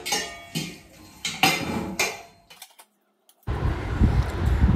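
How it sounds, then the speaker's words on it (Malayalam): Dishes are washed in a home kitchen: pots and cutlery clink and clatter in irregular bursts, then a pause and a steady rush of running water. "പാത്രങ്ങളെ കഴുകി കഴിഞ്ഞാൽ നമ്മുടെ അടുക്കളയിലെ പണിയൊക്കെ തീർന്നു കേട്ടോ."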